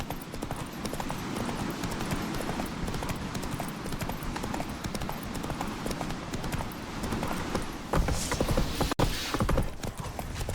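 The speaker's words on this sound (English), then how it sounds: "Grab a horse, we'll chase him down." Horse galloping in The Witcher 3: a dense, continuous drumming of hooves close by, with a faint whinny, and a brief speech fragment near the end.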